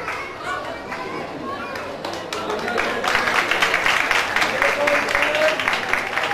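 An audience claps at a charity foundation event, with the applause growing louder and denser after a few seconds and continuing steadily while a voice speaks over it.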